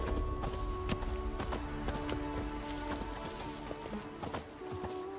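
Horse hooves galloping in The Witcher 3, a steady rapid clip-clop of hoofbeats running continuously over background game ambience.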